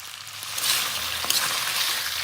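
Mutton drained of its cooking water sizzles in a kadai, a steady close hiss of frying with faint scraping, no voices over it.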